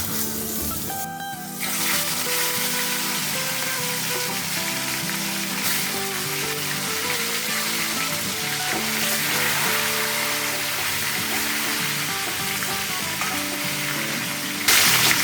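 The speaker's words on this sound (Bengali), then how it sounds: "ভালো গরম করে ফেলেছি। এবার আমি এক এক করে মাছটা ছেড়ে দিই।" Tilapia pieces dropped one by one into hot oil, a loud close sizzle that flares up after a brief pause and then crackles steadily, with background music underneath and a sharp spike at the very end.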